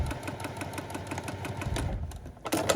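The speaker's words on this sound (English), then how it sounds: "So we sew right on. And we're going to sew straight down to the point," A sewing machine stitches a quilt block seam for a Le Moyne Star, a fast steady mechanical whir close by that slows and pauses briefly before starting up again.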